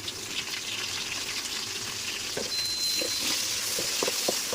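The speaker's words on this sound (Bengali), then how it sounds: "এখানে পেঁয়াজ ভেজে নিচ্ছি আর সাথে দিয়ে দিলাম এলাচ আর লং।" Onions fry in a pan with cardamom, cloves, cinnamon and bay leaf, giving a steady close sizzle with occasional light stirring clicks and scrapes toward the end.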